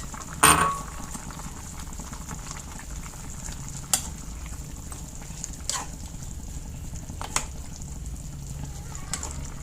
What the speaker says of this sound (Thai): ใส่ผักหาแล้วก็คนให้มันเข้ากัน